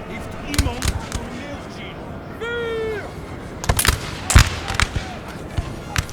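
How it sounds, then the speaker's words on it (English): Musket volleys from foot guards firing into the flank of line infantry in a Napoleon Total War battle, scattered loud cracks and pops at irregular intervals, with a short tonal horn-like call in the middle and someone talking throughout. "Foot guards firing their shots into the flank of this line infantry."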